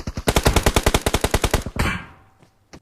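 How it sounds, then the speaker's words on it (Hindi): Suppressed M4 rifle fire in the video game BGMI: a fast, loud burst of about twenty evenly spaced shots, followed by a brief noisy tail and quiet. "सामने से सप्रेसर लगा के फायर आ रहा है, पता नहीं क्या कौन सी गन चला रहा है, M4 वगैरह हो सकती है"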